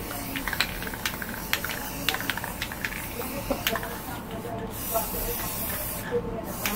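An aerosol can sprays onto hair in several short hissing bursts close by, with soft clicks and handling noise between them and a voice speaking at times.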